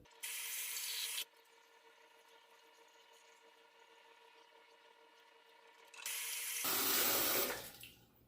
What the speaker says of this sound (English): I'll wet my face and wet this soap